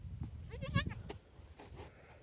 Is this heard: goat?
yes